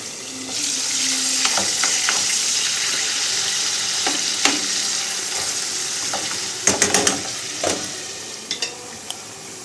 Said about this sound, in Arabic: المهم دوك نقليهم ونولي معاكم.